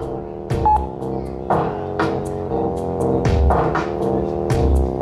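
Telephone keypad tones beep in an irregular series of short presses over a steady background hum and music, each tone clear and close with brief gaps between them.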